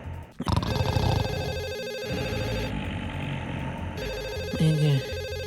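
Telephone ringtone on a call to the police service in a puppet comedy sketch, a steady electronic ringing tone running throughout with a brief clatter near the start.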